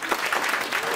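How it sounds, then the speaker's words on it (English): Applause at a collegiate esports awards ceremony, a brief burst of dense clapping from a crowd, steady and fairly loud with no talk over it. "Congrats and applause for Tyler T. Stubbs."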